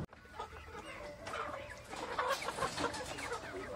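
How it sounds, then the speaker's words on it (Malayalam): Four-month-old hens and roosters on a poultry farm in Idukki cluck and chatter continuously as a flock, a busy overlapping murmur of calls at moderate distance, fairly quiet overall, with no speech. "ഇതാണ് ഫാമിൽ കൊടുക്കാനുള്ള 4 മാസം പ്രായമായ കോഴികൾ"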